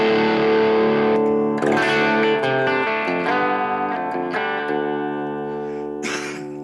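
Electric guitar through a BOSS GT1000 Marshall Plexi amp model rings out in overdriven chords and single notes, thick, crunchy and sustained, with pick attacks scattered through a continuous loud passage.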